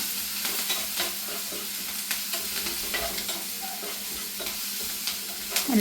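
Green chillies and onion frying with ginger-garlic paste in a pan, a steady close sizzle with scattered stirring scrapes and spatula clicks throughout.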